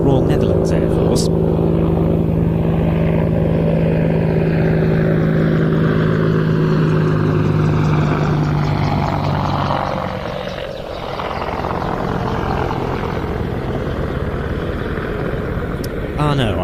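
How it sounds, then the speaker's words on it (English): Apache attack helicopters departing an air show, a loud, close rotor thump and turbine whine that holds steady, then drifts and fades as one passes, with a commentator talking over the noise. "Now, here come some Apaches."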